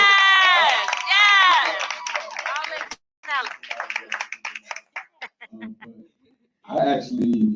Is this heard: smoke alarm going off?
no